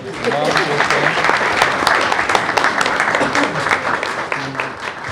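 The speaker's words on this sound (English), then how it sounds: "Trayvana, let's give her a round of applause." Audience applause at a school board meeting honoring a student, steady and loud throughout, with faint voices mixed in beneath the clapping.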